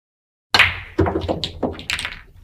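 Pool balls in a butterfly shot in the PlayStation game Virtual Pool: a sharp cue strike, then a few quick, crisp ball-on-ball knocks close up, with no voices.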